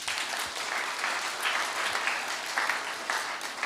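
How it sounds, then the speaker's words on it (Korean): Applause from a church youth congregation during a sermon: many hands clapping in a steady, dense patter, moderately close and continuous, with no talking over it. "여러분, 박수 한번 주세요."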